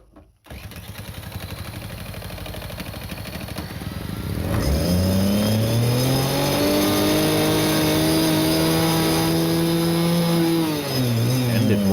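A scrapyard engine is spun over by a Metabo drill, cranking with a steady whir before catching and firing up, then settles into a loud, continuous running drone with rising and falling revs, close by and alone.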